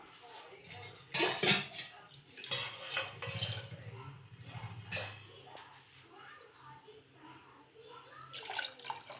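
Water splashes and pours into a metal pot for cooking millet biryani, amid clinks of utensils, with a low steady rumble underneath and a brief splash at the end.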